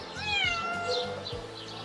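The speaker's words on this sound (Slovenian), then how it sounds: "da muca sama skoči ven" A feral cat being released from a trap gives a long, drawn-out meow, close and loud, with a wavering tone over a low background rumble.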